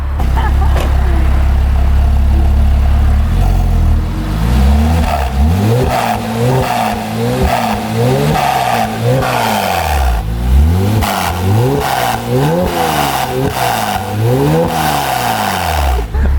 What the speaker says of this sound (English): Now that it's all warmed up, we're gonna get some warm revs, and Lauren's gonna do that for us.